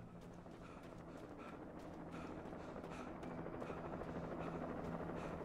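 Helicopter in the video game Alan Wake, a steady rotor drone and low engine rumble that holds level and grows slightly louder over several seconds, with no talking.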